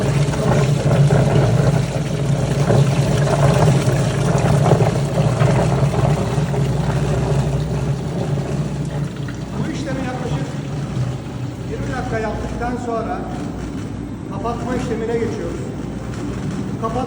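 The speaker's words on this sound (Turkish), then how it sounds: "Sonra pompa motoru hala sirküle etmeye başladı." Kurtsan calf milk preparation machine with its pump motor circulating alkaline or acidic cleaning water, giving a steady low droning hum and churning that continue throughout, with a voice speaking over the later part.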